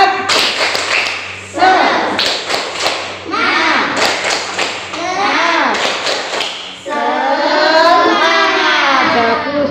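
Children in an Indonesian classroom perform a rhythmic 'tepuk semangat' clap-chant, loud close bursts of patterned claps alternating with their chanted voices in several phrases.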